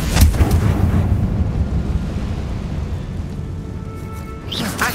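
A Confringo blasting spell explodes in Hogwarts Legacy, producing a loud, booming burst followed by a rumbling decay.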